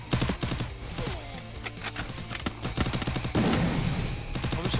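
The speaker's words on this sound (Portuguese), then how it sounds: "Bak já deixou um tiro ali, o Cias de novo." Gunfire in a Free Fire 2v2 match rattles in dense bursts of sharp, rapid shots, some close and loud, others overlapping in quick fusillades, continuing without pause across the whole stretch.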